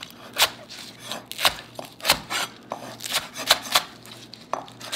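A knife chops green onion on a cutting board for Korean mung bean pancakes, about a dozen distinct close, crisp knocks in an uneven rhythm with no one talking.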